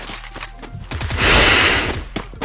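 Sniper rifle gunfire in a battle royale shooter game, with a few sharp shots followed by a louder, rushing blast in the middle, all short and close.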